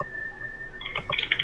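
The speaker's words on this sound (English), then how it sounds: "we hear you typing" Soft, irregular keystrokes on a computer keyboard patter in a quick cluster near the end, faint against a steady background hum with a thin whistle-like tone.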